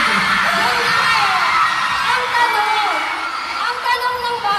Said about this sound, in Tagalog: Na-shock ako sa mga sigaw, Binsoy.